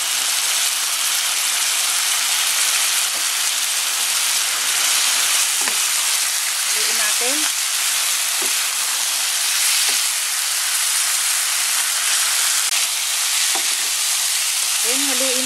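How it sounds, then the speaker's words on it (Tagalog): Pork binagoongan with black pepper sizzles loudly and continuously in a pan, a thick frying hiss overlaid with occasional scraping and clattering of a utensil stirring the meat; no talking. "Then, haluin po natin."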